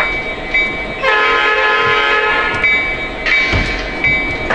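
Lionel PRR Heritage SD70ACe model diesel locomotive pulling freight cars, a steady close mechanical hum and rumble with sustained electronic horn blasts sounding over it, no talk.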